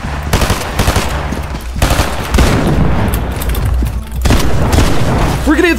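Loud rapid bursts of automatic gunfire and booming shots in a competitive battle-royale video game, firing in repeated volleys across the clip with excited voices talking over the action.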